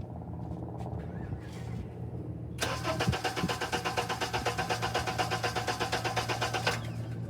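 A Honda engine cranking on the starter during a valve adjustment job, a steady rapid rhythmic chugging that runs for about four seconds after a short click and hum, close and loud, with no talking.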